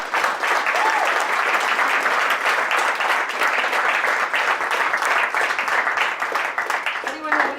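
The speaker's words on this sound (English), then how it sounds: "let's give a big round of applause" Audience applause fills a Startup Grind founder talk in Detroit, a dense, steady wash of many hands clapping at full strength for several seconds before thinning slightly at the end.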